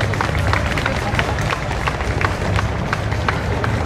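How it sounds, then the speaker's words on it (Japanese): Steady applause from a crowd greeting the Rissho University wind band at an outdoor Ginza Willow Festival concert, dense sustained clapping with faint crowd murmur throughout. "盛大な拍手でお迎えください"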